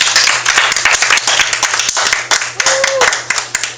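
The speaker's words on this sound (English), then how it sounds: "So why don't we give a nice hand clap for Kimberly Reyes." At a small business networking talk, an audience gives a speaker a loud, close burst of steady hand clapping, with a brief vocal whoop near the end.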